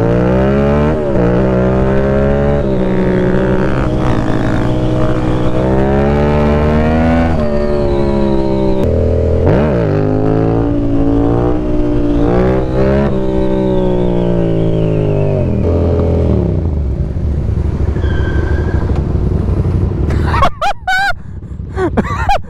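A vehicle revving hard with the handbrake on while hooning around in Fort Worth, loud sustained engine notes rising and falling in pitch for about twenty seconds, close up, ending in a sharp burst of noise.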